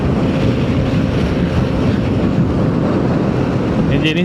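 An Aveta Viper 180 motorcycle with a 174cc engine runs at speed, giving a steady, loud roar heavily mixed with wind rush throughout.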